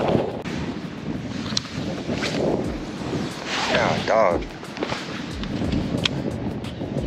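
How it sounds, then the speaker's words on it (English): Strong wind buffets the microphone in rumbling gusts out on a boat while a person talks briefly and other outdoor noises mix in. "This is probably the windiest day we've ever been out here."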